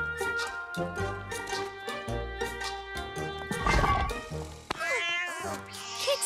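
A cartoon cat meows in a kidnapping scene, its voice rising into a loud caterwaul over background music, with a sharp burst near the middle.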